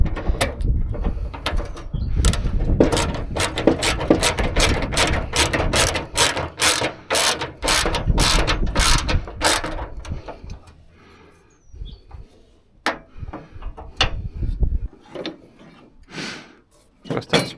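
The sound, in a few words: ratchet wrench turning while building a truck roof rack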